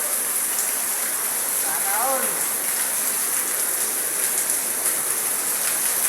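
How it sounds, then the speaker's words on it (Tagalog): Heavy rain pours down in a steady, dense hiss, with a brief voice heard faintly beneath the downpour. "dahil sobrang lakas ng ulan"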